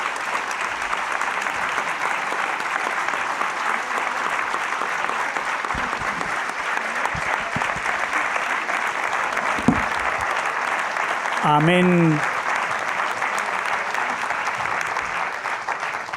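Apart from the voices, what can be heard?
thunderous applause from the audience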